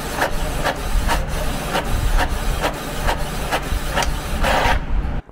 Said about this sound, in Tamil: ஃபஸ்ட்டு நம்ம ஒரு பிளாக் அண்ட் ஒயிட் டெஸ்ட் பேஜை வந்து பிரிண்ட் பண்ணி பார்ப்போங்க